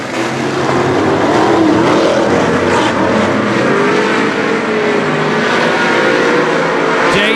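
Superstock race cars roar off at the green flag during a night of oval racing, a loud, sustained chorus of engines revving and accelerating together, with rising pitch sweeps as cars pass close by.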